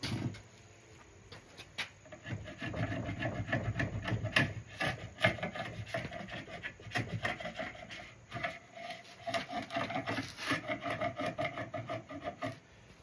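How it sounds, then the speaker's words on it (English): A hand scraper rasps across the top surface of a 2014 Winnebago SunStar 26HE RV countertop in steady, close strokes that run continuously with brief pauses, and no voices are heard. "I'm going to scrape the top off a little bit."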